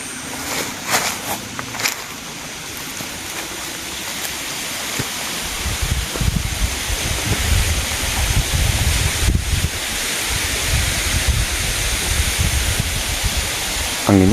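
Strong wind roaring through bamboo trees at night near a graveyard, a steady broadband rush that builds in the second half with rustling and microphone buffeting, close and loud with no talk.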